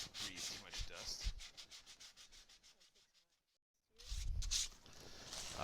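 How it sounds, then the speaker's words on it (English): Filler is being sanded by hand on custom car kick panels, giving rhythmic rubbing strokes that fade to a pause before resuming close and clear, with no voices. "So we won't bore you guys with a whole video of us sanding"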